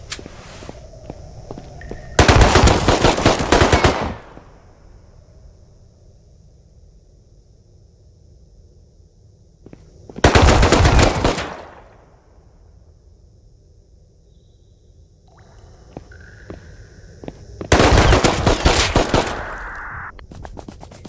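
Three bursts of rapid gunfire in the Rust video game are heard at separate moments, each a dense, loud volley lasting a couple of seconds with quiet ambience between them.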